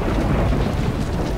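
A thunderstorm from The Sims 4 rumbles as a dense, continuous low roar of thunder with wind and rain, loud and steady, with no talking.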